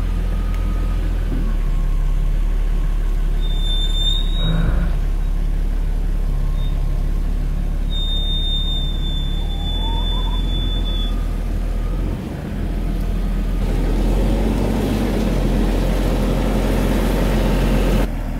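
A car engine idles and rumbles steadily with a low, continuous drone as the car is put in gear and reversed out, with faint high whines and a slight swell toward the end.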